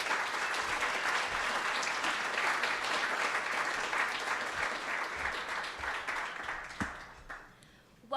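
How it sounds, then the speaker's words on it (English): An audience at a law review symposium applauds in a warm, sustained round of clapping that welcomes the organizers, fading out near the end just before a voice begins. "I encourage you to give them a warm round of applause for all of their hard work"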